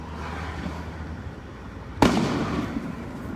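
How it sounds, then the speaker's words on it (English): Fireworks go off near a patrol car: one sharp, loud burst cracks out partway through and trails into a crackling rumble, over a steady low hum. "Those are fireworks. If you're listening to them now, those are definitely fireworks."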